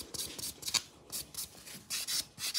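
Rough filing and sanding of acrylic gel nails with a nail file: short repeated rasping strokes in quick bursts, close and moderately loud, with no talking.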